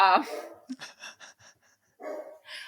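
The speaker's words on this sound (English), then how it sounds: "my one dog is barking, so I apologize if you hear them" A dog barks indoors in a few sharp, close yips and barks, separated by short pauses and mixed with breathy sounds.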